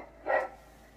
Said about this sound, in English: Puppy? Bark.